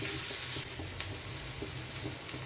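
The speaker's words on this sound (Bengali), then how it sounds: "মাঝে মাঝে নেড়ে দিচ্ছি।" Spiny gourd (kakrol) frying with turmeric and Kashmiri chili powder while being stirred now and then, a close, dense sizzle with a few soft utensil scrapes and taps over a brief stretch.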